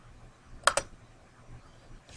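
Two quick keystrokes on a computer keyboard while entering an Excel formula, soft and close, followed by quiet room tone and a faint third tap at the end.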